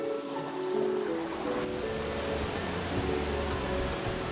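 Steady rushing water from waterfalls and bubbling brooks around fish ponds in Kazakhstan fills the scene as a continuous close wash with a low rumble and no voices.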